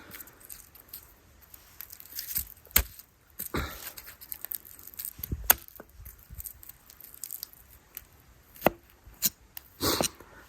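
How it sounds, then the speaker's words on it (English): A knife chops garlic into pieces on a board outdoors, giving irregular sharp taps, some in quick pairs or clusters, close and fairly loud with quiet gaps between. "same with the garlic, just chop them up into pieces"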